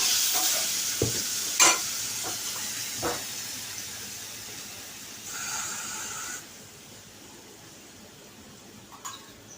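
A spice mixture for cauliflower korma fries in hot ghee with a soft, steady sizzle, broken by a few sharp clinks of a utensil against the pan and a brief louder hiss partway through.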